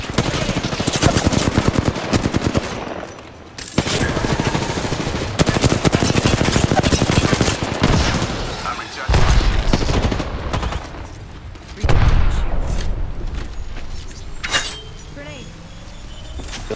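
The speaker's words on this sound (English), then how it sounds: "Taking fire." Rapid bursts of automatic gunfire rattle loudly in a video game, coming in long sustained volleys with short pauses between them, while players talk over the shooting.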